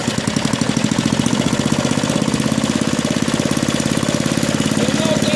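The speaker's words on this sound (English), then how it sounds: "You'll note that the engine starts and idles fine" A small engine with a misadjusted mechanical governor runs steadily at idle after restarting, with a rapid, even chugging of firing pulses, close and loud.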